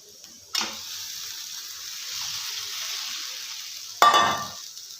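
Chitranna rice being stirred and mixed in a pan, with a steady faint sizzle between two sharp scraping strokes of the spoon, near and with no talking.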